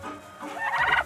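A turkey tom gobbles once on a farm, a short rapid warbling burst close by, rising at the end, with no talk over it.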